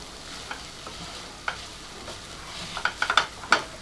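Grated coconut being stirred into mango rice in a hot pan, a soft steady sizzle with a few sharp spoon scrapes and taps clustering toward the end.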